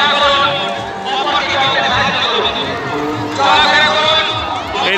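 A dense crowd at a Makar Sankranti fair on the Kangsabati river bank in Purulia, with continuous close chatter and overlapping voices, shouts and hubbub throughout.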